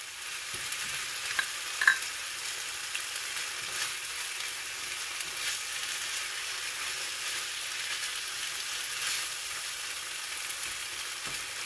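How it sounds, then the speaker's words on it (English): Cottage cheese being stirred into moussaka sauce in a hot pan, a steady close sizzle with faint scraping stirs and an occasional small click, no voices. "Going to stir in now that 1/3 cup of cottage cheese"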